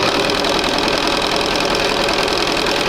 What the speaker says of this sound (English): I'm just sewing a 1/4 inch from the white on the white edge.